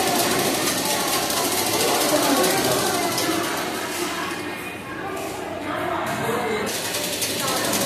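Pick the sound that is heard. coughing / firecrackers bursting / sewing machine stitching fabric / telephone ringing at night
sewing machine stitching fabric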